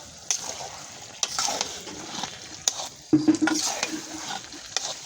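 Spice paste fries in oil and is stirred in a pan, with soft sizzling under scraping, clinking strokes of the spoon recurring every second or so, close and moderately loud.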